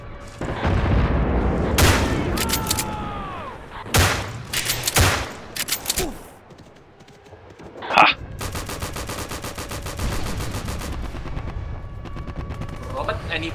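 Artillery and gunfire in the Battlefield 1942 Forgotten Hope Secret Weapon mod at the Merville Battery: repeated loud booms and bursts of shots, then a sharp blast followed by sustained rapid machine-gun fire.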